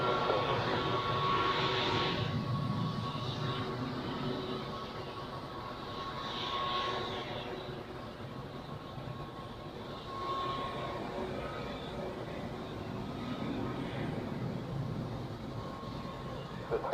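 An aircraft departing at Zurich Airport, a broad sustained engine roar heard from a distance that swells and fades over the whole stretch, with faint radio chatter underneath.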